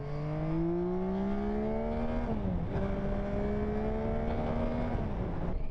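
A Yamaha Tracer 9 GT+ or MT09 three-cylinder motorcycle engine revs steadily close by, its pitch climbing smoothly, dipping briefly on a shift, then rising again in a continuous loud drone.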